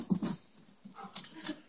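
A dog whimpers and yelps in short bursts after attacking a cat, two sharp close cries followed by softer whines.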